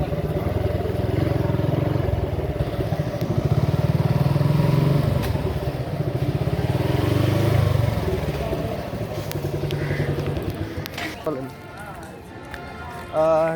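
A motorcycle engine hums steadily at close range during a ride to a shrine, with clattering and people talking over it before the engine noise drops away near the end.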